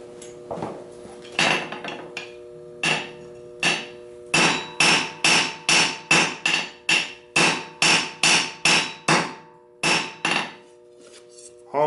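Hammer striking a fork being forged on an anvil, drawing a two-sided taper at the heel: a long run of loud, sharp, ringing metallic blows in a steady rhythm, with a few spaced strikes before the pace quickens.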